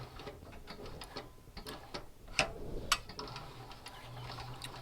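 A Cowboy CB6900 heavy-duty sewing machine stitching in reverse through thick material for a dog collar and bed makes a fast, close mechanical ticking and clatter, with a couple of sharper knocks midway.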